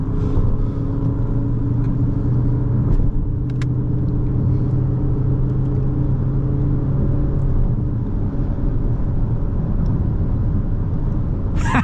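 A 2025 Lexus ES 350, non-turbo, drives along a road with a steady engine rumble and tyre noise, close and continuous with no talking.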